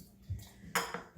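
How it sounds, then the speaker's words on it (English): Frozen raspberries are tipped into a container for gin-making, landing with a brief rattling clatter followed by a few soft knocks; the sounds are fairly close and quiet, with no talking. "So we're gonna bang our raspberries in there as well."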